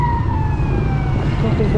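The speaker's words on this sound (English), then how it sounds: "Ambulance." An ambulance siren wails with a gliding pitch, heard from some distance over loud, rumbling traffic noise while riding a motorbike in Angeles City, Philippines.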